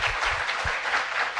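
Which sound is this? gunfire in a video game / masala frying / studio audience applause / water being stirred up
studio audience applause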